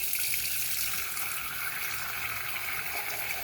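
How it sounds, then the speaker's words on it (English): Tap water running steadily into a sink as it refills, a continuous close splashing gush with no voices. "now I'm gonna refill the sink"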